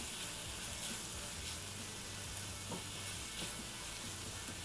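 Garam masala being stirred into a hot pan, with a steady sizzle and frying hiss throughout and faint scraping of the spoon, close and alone with no voices.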